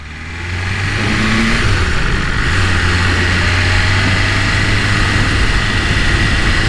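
A BMW S1000RR sport motorcycle engine roars loudly and steadily, revving with shifting pitch as it rides through Miami, wind noise blowing over it; no voices.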